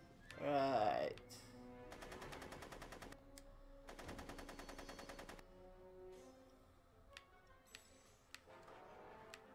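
Rapid bursts of machine-gun fire rattle in the Back to the Future video game, two distinct sustained volleys followed by scattered single shots, with a voice speaking at the start.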